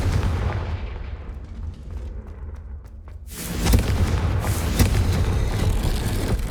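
In the video game Hogwarts Legacy, a Confringo fire spell bursts with a deep booming explosion. A low rumble builds first, then a loud crackling blast erupts and sustains its roar to the end, with no talking.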